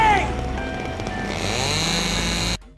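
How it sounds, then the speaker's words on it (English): A stock buzzsaw sound effect from a Dead Rising movie whines loudly and continuously for about two and a half seconds with a harsh, rising mechanical buzz, then cuts off abruptly. "Why do they have to use a stock noise? Buzzsaws don't make that noise in real life"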